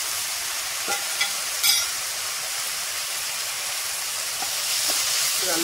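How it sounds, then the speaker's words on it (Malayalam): Onions and tomatoes sauté in a pan. A steady, bright hissing sizzle carries on evenly throughout, with a few faint clicks of the utensil and a slight rise in intensity toward the end. "നമ്മുടെ ഉള്ളി തക്കാളി നന്നായിട്ട് വഴണ്ടു വന്നിട്ടുണ്ട്"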